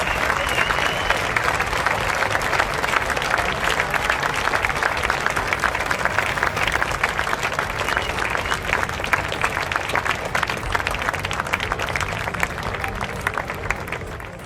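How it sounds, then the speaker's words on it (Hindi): Sustained applause from a crowd at a gala awards night as a guest is welcomed on stage, dense clapping at an even level throughout before it begins to fade at the end. "आपकी भरपूर तालियां होनी चाहिए।"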